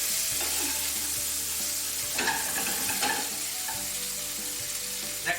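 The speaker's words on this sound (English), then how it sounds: "We're going to let those saute in the pan." Beef tenderloin medallions sauté in a hot pan, a steady close sizzle with intermittent scraping and stirring clatter, no voices.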